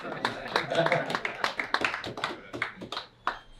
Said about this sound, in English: you can clap hands right there, young man